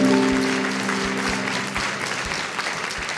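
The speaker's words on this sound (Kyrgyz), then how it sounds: "Кол чабуулар." Applause from a studio audience at a quiz show, a dense, steady clapping that fades slightly over a few seconds, with a faint voice briefly under it.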